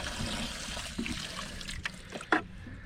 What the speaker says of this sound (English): you can put a little water in here